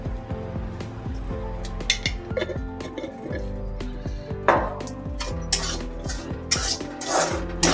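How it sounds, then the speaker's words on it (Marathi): Semolina being stirred as it roasts in a pan with a little salt for mango sheera, with repeated metallic scraping and clinking of a spoon against the pan in an irregular rhythm, close and fairly loud. "आणि एकदा ढवळून घेते."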